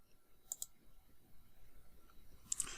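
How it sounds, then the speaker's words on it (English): A computer mouse is clicked twice in quick succession near the start, then twice again near the end, each a sharp, faint tick against a quiet room hush. "We're going to click over here"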